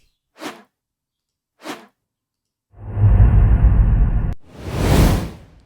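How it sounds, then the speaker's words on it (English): A swoosh sound effect from a video editor's sound library: two quick, separate whooshes, then a longer dense noisy rush that cuts into a final loud broadband swish, all alone with no talk. "You click on the plus and the swoosh has been added to the video"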